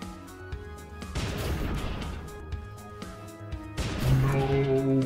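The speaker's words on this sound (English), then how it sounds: "I believe this is a job for our grenade launcher." A grenade launcher fires in the turn-based game Bionic Dues, a few heavy thumping blasts with crackling bursts that rise and fade, ending in a louder explosion over a low game-music hum.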